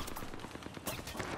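Rapid gunfire in a shooter video game, a quick burst of repeated shots at low level with dense crackling texture throughout.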